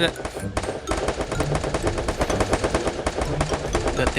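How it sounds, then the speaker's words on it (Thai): Rapid automatic gunfire from the Free Fire mobile game in a 4v4 match rattles on continuously and loudly, with dense overlapping shots and voices faintly underneath. "เพื่อนมันยิงกันรัวๆเว้ย"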